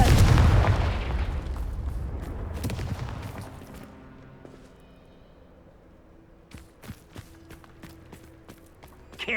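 A Confringo fire spell bursts in Hogwarts Legacy, a loud explosive boom at the start that rumbles and fades over several seconds, followed by faint scattered clicks and footsteps.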